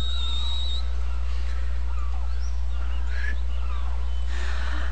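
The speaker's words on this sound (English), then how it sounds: "She's supposed to whistle for Titus to come running to her, remember?" A whistle in the video game Final Fantasy X, a high steady tone near the start over a constant low hum and faint game ambience.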